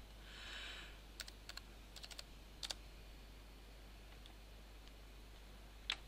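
Keys on a computer keyboard tapped in short bursts while a library card number and four-digit PIN are entered, quiet isolated clicks with pauses between groups over low background hum.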